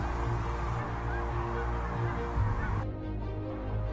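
Geese honk continuously in an open field, a steady blended chorus of calls from a flock at middle distance, with no talk.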